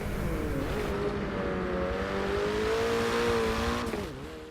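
A McLaren 720S in Forza Motorsport 7 holds a loud, steady high-revving engine note as it crosses the finish line, the pitch sweeping slightly before dropping off sharply near the end.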